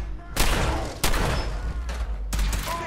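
Gunfire in Fallout 4 comes as several loud, close shots with sharp cracks separated by short gaps, each followed by a ringing tail, with game voices calling out between them.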